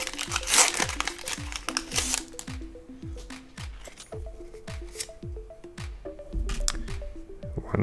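Foil wrapper of a Pokémon Paldean Fates booster pack from a Mini Tin being torn and crinkled open up close, a steady stream of crisp crackling and rustling with no voice over it.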